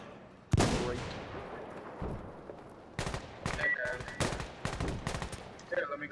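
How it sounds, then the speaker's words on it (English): Incoming mortar rounds crash down in Insurgency: Sandstorm, a heavy blast followed by a string of sharp, loud impacts and bursts of gunfire-like cracks at uneven intervals, with brief tonal squeals between hits. "Friendly mortars coming in as well"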